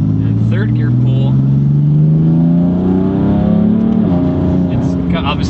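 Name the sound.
modified 600 hp BMW M4 accelerating in third gear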